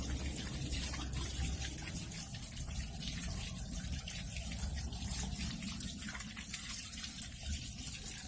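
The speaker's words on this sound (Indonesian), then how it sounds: "setelah itu kita basuh dengan air mengalir" Tap water runs steadily from a faucet as hands are rinsed, a constant broadband gush that fills the whole stretch with no voices over it.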